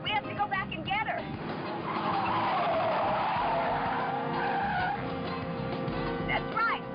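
A car brakes hard and its tires skid with a long screeching squeal that swells and holds for several seconds, while people talk over it at the start and end.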